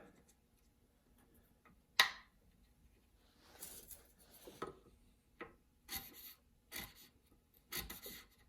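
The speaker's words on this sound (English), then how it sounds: "so I can chisel off the end of this" A chisel paring the end off a small wooden kumiko piece in a woodworking workshop, a sharp click followed by several short scraping, rasping strokes spaced out, close and quiet.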